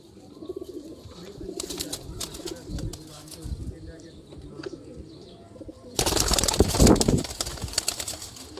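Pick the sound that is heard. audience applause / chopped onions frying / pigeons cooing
pigeons cooing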